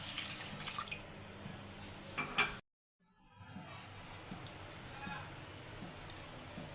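Water splashes and trickles into a cooking pan during the making of a Bengali mustard hilsa fish curry, a soft watery pour with a brief drop to silence midway.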